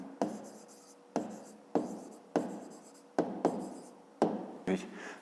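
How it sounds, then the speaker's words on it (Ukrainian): Pen or pencil writing an answer by hand on paper for a fifth-grade maths exercise, heard as about seven short, close scratchy strokes in a steady stop-start rhythm, each a quick stroke fading out before the next. "Відповідь пишемо."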